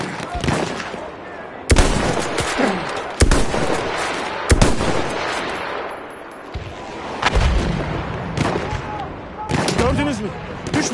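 Artillery shells strike in a Battlefield 1 World War I battle, several heavy booming impacts spaced a few seconds apart over continuous rifle fire and battlefield clamor, with voices heard.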